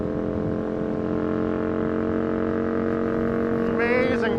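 An Aprilia RSV 1000 R Factory sport motorcycle's engine runs smoothly while riding, a steady loud droning hum with layered tones that holds throughout and rises slightly toward the end.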